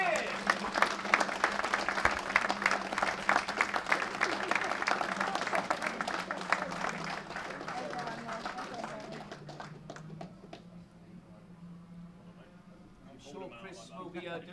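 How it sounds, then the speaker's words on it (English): Applause for the Premier class sprint champion at a trophy presentation, a dense burst of clapping that thins over about ten seconds into a few scattered claps, with voices talking through the later part. "I think he deserves a big round of applause indeed."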